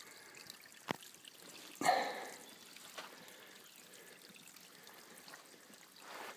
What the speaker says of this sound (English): here is a tiny little stream